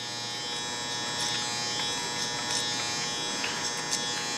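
Electric hair clippers running clipper over comb while blending a low taper haircut, a continuous close buzzing hum with faint brief snips and comb strokes on top, no talking.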